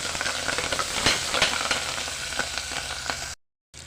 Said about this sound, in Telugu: కొంచెం కరివేపాకు ఫ్రై చేయండి